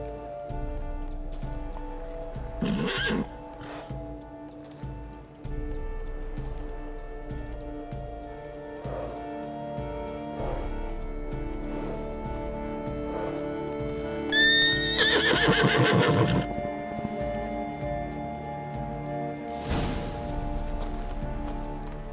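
Roach the horse in The Witcher 3, with several loud neighs and whinnies spread across a steady clip-clop of hooves, plus scattered thuds and other game sounds.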